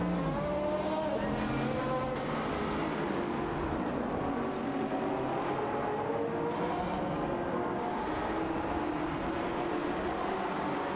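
Race cars, a Lamborghini Huracan and a Ferrari Scuderia, in a racing game, with engines revving and shifting pitch through gears, occasional tire squeal, sustained and fairly close with no talking.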